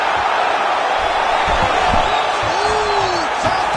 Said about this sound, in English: crowd pops as he gets out again